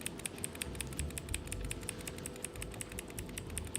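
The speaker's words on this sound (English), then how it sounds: "I have my clicking, my little fidget clicker with like a mechanical key switch." A handheld fidget clicker fitted with a mechanical keyboard key switch, pressed in rapid bursts of sharp, close clicks in an uneven rhythm, with no voice over them.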